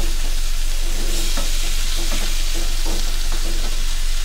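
Peppers sauté in a pan, a dense, close sizzle running throughout with several soft stirring scrapes layered on top.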